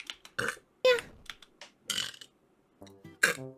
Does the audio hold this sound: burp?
yes